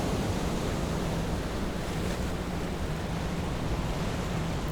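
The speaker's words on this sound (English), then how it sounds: "Heading to a nearby beach, we looked upon the stormy ocean." Stormy ocean surf rolls continuously onto a beach in Iceland in winter, a loud, steady wash of breaking waves with wind noise buffeting the microphone throughout.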